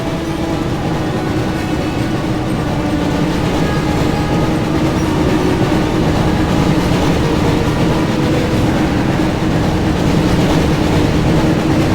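Train chase in the PS1 video game Harry Potter and the Chamber of Secrets, a continuous loud rumbling rail roar with clattering wheels that holds steady throughout, with no talk.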